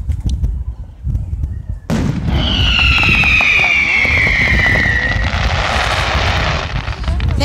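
Fireworks burst outdoors after a quiet start, with a whistling rising streak and crackling booms, loud and close, continuing into a rumbling tail.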